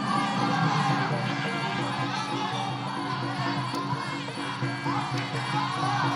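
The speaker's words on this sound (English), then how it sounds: "Crowd really trying to get behind Monika right now." A Muay Thai fight night crowd cheering and shouting, a dense, continuous roar of many voices that fills the whole stretch and rises here and there.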